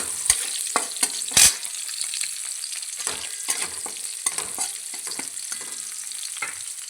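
Chilies and soaked moth bean dal frying in a hot pan, a continuous close sizzle broken by sharp pops and scraping stirs, without talking.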